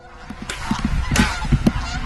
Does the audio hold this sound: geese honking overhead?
yes